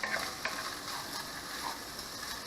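Leftover seafood sautés in a pan before going into a seafood dressing, giving a steady, low sizzle with a few soft clicks and scrapes from stirring. No voices are heard.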